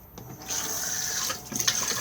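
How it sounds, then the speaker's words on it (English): Water rushes as a motorhome cassette toilet is flushed with a push button, a loud hissing gush that starts after a brief pause and runs on steadily, close to the listener. "and then push to flush"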